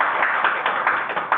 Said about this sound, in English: I think we'll just finish off with a nice round of applause and a congratulations for Ron.